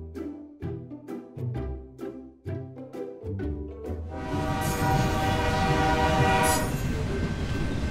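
A train rolls along a railway with rhythmic clickety-clack wheel beats at first, then swells into a loud, continuous rumbling roar with squealing wheels and a horn-like tone.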